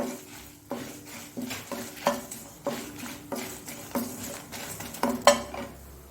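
Coriander, cumin and mustard seeds tempering in a pan, heard as steady rhythmic scraping and clinking of a spoon against the pan with a faint sizzle underneath, repeating roughly every second, close and fairly quiet.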